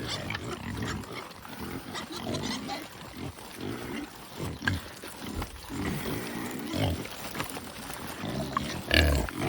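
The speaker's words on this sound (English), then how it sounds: "here we have galloping pigs" Several pigs scramble close by in a rapid, busy tumble of grunts, snorts and squeals mixed with thudding hooves, all continuing for the full length.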